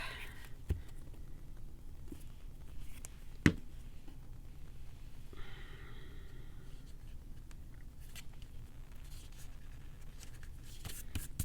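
Pen and ink scratch faintly across glossy paper in short strokes, with a quiet rustle and one sharper tap partway through, all soft and close in a quiet room.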